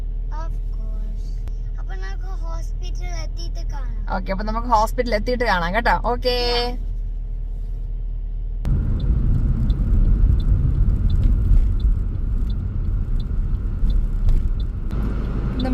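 A car idles to warm up on a cold night in Australia, then drives toward a hospital. A person talks over a quiet idle at first, then a steady road rumble with engine drone takes over and continues.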